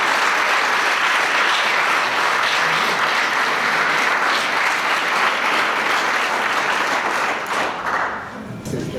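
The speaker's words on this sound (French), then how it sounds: "Donc, on peut les applaudir" Loud, sustained applause from a crowd at a charity relay launch event, close and dense, easing slightly near the end.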